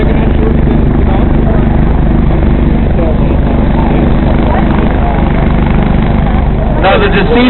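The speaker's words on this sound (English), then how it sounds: "The increase in RPMs that you hear for the helicopter is them lifting off." A helicopter at a crash scene produces a loud, constant rotor and turbine drone with a throbbing low rumble that holds steady and builds slightly as it prepares to lift off, with a brief voice near the end.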